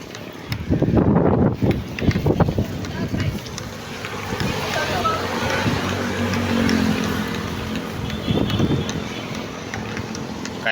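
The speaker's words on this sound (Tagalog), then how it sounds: "Kahit may bagyo, kaya malakas ang ulan" Strong typhoon wind buffets the microphone in a continuous roar, with gusty surges and a steady rushing background throughout.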